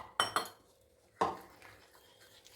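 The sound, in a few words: mixing mushrooms into the sauce in a bowl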